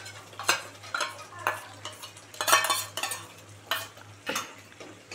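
A spoon stirs whipped yogurt into fried masala in a pot, giving repeated scraping and clattering strokes at an uneven rhythm over a soft sizzle, close and moderately loud.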